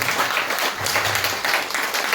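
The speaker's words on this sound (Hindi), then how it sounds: "मैं चाहता हूं 14 ताली बजा दीजिए।" A crowd at a public event in Jharkhand applauds steadily, with dense, even clapping lasting about two seconds and no talk over it.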